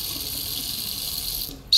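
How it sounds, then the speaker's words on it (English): A turned-on tap runs water in a steady, close hiss, then the flow changes abruptly at the very end. "The tap, which you just turn on and water comes out."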